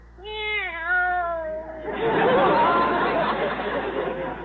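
On a 1954 radio comedy broadcast, a cat gives a drawn-out meow, then a chattering crowd of voices rises and continues loudly.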